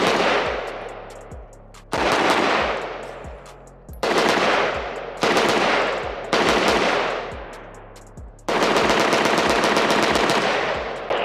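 A PSA Spiker AK-type rifle, a Type 56-style gun, fires a string of loud, close shots, single reports and quick doubles with ringing echo tails, ending in a rapid burst.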